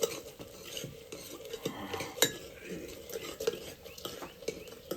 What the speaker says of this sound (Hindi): हाँ अब मसाला भूनेंगे।